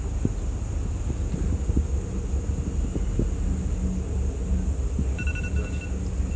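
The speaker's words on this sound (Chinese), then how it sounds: "安静，可以感受到周围风的声音。" Steady wind blowing around an outdoor site, a continuous low rumble with faint scattered knocks and no talk throughout.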